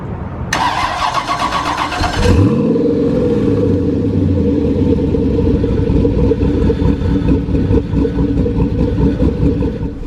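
An LS-swapped V8 in a Porsche 911 (997) cranks with a starter whir, then fires into a loud, deep rumbling idle that settles and holds steady close by, with no talk.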